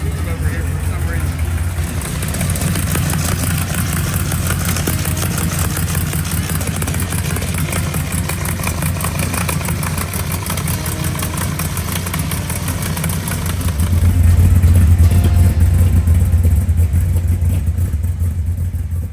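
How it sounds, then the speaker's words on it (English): A car engine idles with a rough, raspy exhaust note from an exhaust leak through a hole in the header tube, chuffing steadily, then revs up louder near the end. "that exhaust leak sounds terrible in person"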